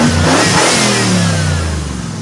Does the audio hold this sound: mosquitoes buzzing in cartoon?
no